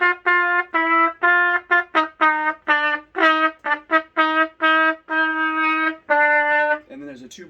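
A trumpet plays a passage, clear and close: a run of bright, separate notes of varied length, mostly short and tongued with some held longer, ending in a brief breathy wobble.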